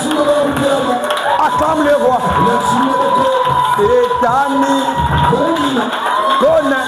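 A church congregation cheers and shouts in acclamation, a dense crowd of voices whooping and calling out over steady background music, continuous and close.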